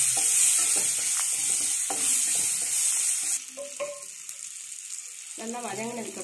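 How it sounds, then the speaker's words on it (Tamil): Brinjal sautés in a pan for brinjal and mango sambar: a loud hissing sizzle with utensil scrapes, then the sizzle drops off and a voice briefly talks over quieter frying. "கத்திரிக்காய் போட்டு நல்லா வதக்கிக்கலாம்."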